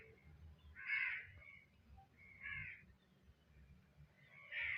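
Three faint, distant caws from a crow ring out at spaced intervals against a quiet background rumble, with no talking.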